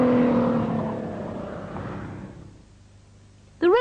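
A Renault GTA Turbo with a 2.5-litre 200 bhp engine is heard driving, its engine note loud at first and then fading away as the car recedes, followed by a short burst of speech.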